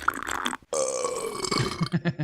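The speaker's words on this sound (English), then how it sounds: "Is that the same burp? That was the same burp" A long, loud, rumbling burp with a brief pause, followed by a few shorter gulping belches at the end.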